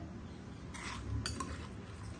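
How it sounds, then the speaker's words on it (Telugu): Wood apple curd chutney being mixed with a spoon in a bowl, a few soft scraping clinks and stirring sounds over a quiet background. "పెరుగు పచ్చడి బాగా కలిసిలాగా కలిపేసుకోండి"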